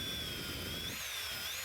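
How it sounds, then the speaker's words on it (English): Power drill boring a hole through the middle of a wooden lolly stick, a steady high whine with a small pitch rise near the end, loud and close with no talk. "Drill a hole in the middle."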